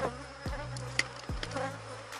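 A honeybee swarm being split into a closed box hums steadily at close range, with a few low thumps and knocks of the hive woodwork over the continuous insect drone.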